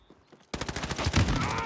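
Call of Duty gunfire erupts abruptly after a quiet moment and continues as loud, rapid automatic bursts with rattling shots, close and dense, following faint background sounds beforehand.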